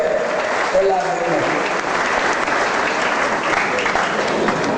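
An audience breaks into steady, dense applause that carries on evenly throughout, loud and close, with a voice speaking over the clapping.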